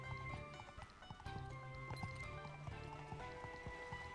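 A cartoon horse in the SpongeBob SquarePants: The Cosmic Shake video game clip-clops with hollow hoof knocks amid bright, tonal game music, a steady run of hoofbeats played back quietly.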